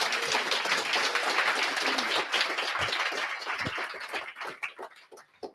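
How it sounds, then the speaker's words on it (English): A meetup audience at a Python Christmas gathering breaks into steady applause: dense, close clapping that holds for about four seconds, then thins into scattered claps and fades out. "it deserves yet another applause"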